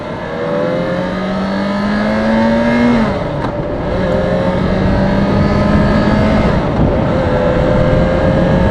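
A Kawasaki Ninja 250, a lightweight low-power beginner motorcycle, runs its engine loud and near with a steady buzzing drone and a brief dip and shift in pitch partway through, no talking.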